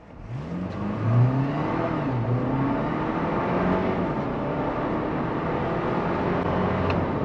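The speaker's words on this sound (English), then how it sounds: "All I need to do, just press the accelerator all the way down." GWM Tank 500 Ultra HEV, a seven-seat 4x4 hybrid SUV with 255 kW, accelerating hard from a standstill in sport mode; a rising engine whir climbs through gear changes over steady road noise, heard from inside the cabin.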